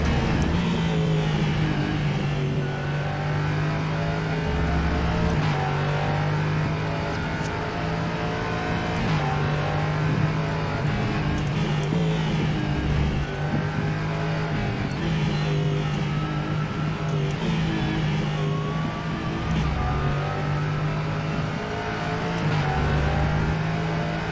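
Porsche race car engine in a racing video game, a continuous loud drone held at steady revs with brief dips at gear shifts every few seconds, heard alone without talk.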